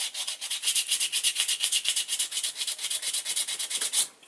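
Steady back-and-forth rasping of sandpaper on a hand-made hard fishing lure, a fast even rhythm of close, bright scratchy strokes that stops abruptly near the end.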